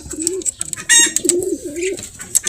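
Breeder pigeons in a loft coo repeatedly in low, rolling phrases, close by, with faint chirps and rustling around them and no talk.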